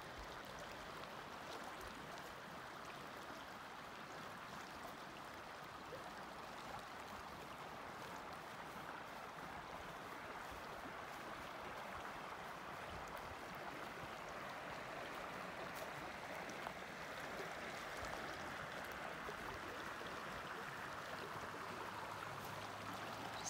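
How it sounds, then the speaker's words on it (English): A small mountain creek near a campsite flows steadily, a soft, even wash of running water that stays constant and fairly faint throughout, with no voices. "Just a windy little creek comes down the mountain."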